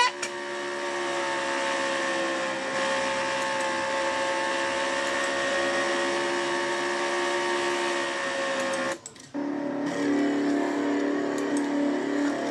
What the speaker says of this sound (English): I think Dion Scott's got a rev limiter problem